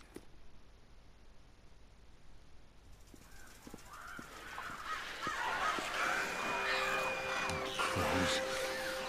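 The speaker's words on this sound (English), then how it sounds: "Yeah, that's these evil crows." Crows caw in the video game Days Gone, with harsh goose-like honking calls rising over a growing ambient bed in the latter half, fairly faint overall.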